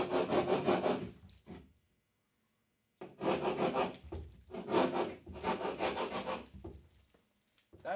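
Metal chisel scraping texture off a drywall surface in two bursts of harsh, rasping strokes, close and fairly loud, separated by a pause of near silence.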